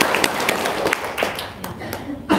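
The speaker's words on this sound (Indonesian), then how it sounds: "Tepuk tangan dulu." Brief, loose clapping from a small group at a talk and testimony gathering, a handful of uneven claps with a soft chuckle and background voices.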